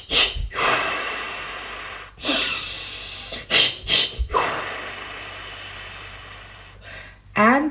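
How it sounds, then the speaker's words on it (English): A Lamaze patterned-breathing demonstration for a labor contraction: a run of sharp, forceful breaths, with quick snorting inhales and hissing exhales in uneven bursts, close to the microphone and separated by short pauses. "that's when you start doing the patterned breathing"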